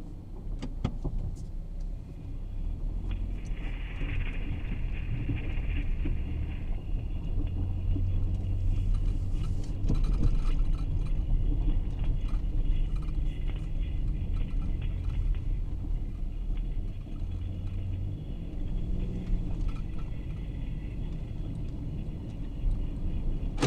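Steady road rumble and low droning hum from a driving car, recorded through microphones listening for wheel bearing noise, continuous and fairly quiet with no speech.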